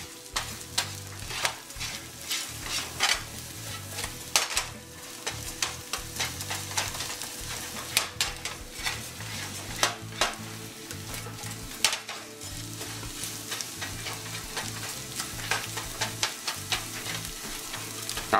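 Scrambled eggs fry and sizzle in bacon grease while being stirred, a steady hiss broken by repeated scraping strokes in the pan, close and continuous with no talking.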